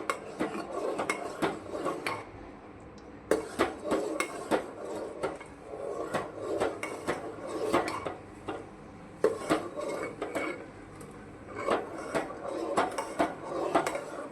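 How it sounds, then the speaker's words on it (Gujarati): A spoon stirs a soap mixture of gram flour and flame-of-the-forest water in a metal pot, making repeated close scraping and clinking against the sides in irregular bursts, steady and unaccompanied by talk. "જો આપણે આ પાણી છે એટલે થોડી વાર આપણે હલાવીશું, એને ઉકાળવાનું છે।"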